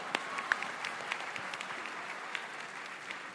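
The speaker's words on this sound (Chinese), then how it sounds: "我们再给校方一个鼓励的掌声" An audience at a national university debate final in Malaysia gives warm, encouraging applause. Quiet, evenly spread clapping continues throughout with a few sharper claps standing out.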